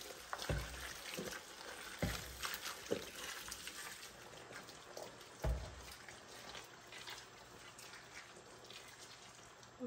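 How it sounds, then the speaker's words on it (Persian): Boiling water poured into a cooking pot of kale pacha (sheep's head and trotters) seasoned with red chili and cumin, a faint liquid trickle and splash with scattered soft knocks of the pot. "آب جوش را هم اضافه میکنیم."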